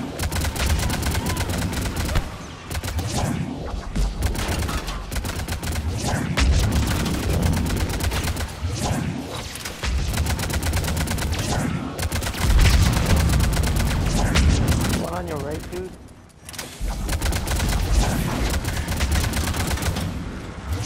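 Mass Effect 3 multiplayer combat with shotgun fire: repeated loud gunshots and blasts amid a steady battle din, with a brief lull near the end before firing resumes.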